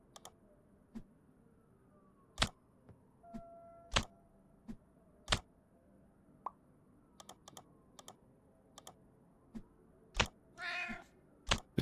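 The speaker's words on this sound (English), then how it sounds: "Cats are looking for food." Cats meow in the Gacha Capsule Shop video game, a short, bright cry near the end among sparse mouse-like clicks and soft plops, with a faint tonal blip earlier.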